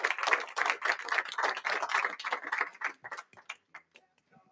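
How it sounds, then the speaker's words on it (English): Applause honours a young chef at a European culinary award event, a dense burst of clapping that thins out into a few scattered, fading claps near the end. "Like everyone to give a round of applause to Raul."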